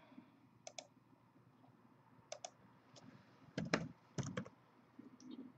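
Keys clatter on a computer keyboard in short, irregular bursts of typing, close and fairly quiet, with a louder cluster of presses near the end and no talk.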